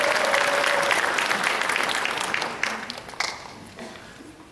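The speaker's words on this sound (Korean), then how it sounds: "올라오실 때 뜨겁게 환영의 박수 해주시기 바랍니다" A Korean church congregation applauding warmly to welcome a visiting missionary to the pulpit: dense, lively clapping that slowly thins out and fades, with a few last scattered claps near the end.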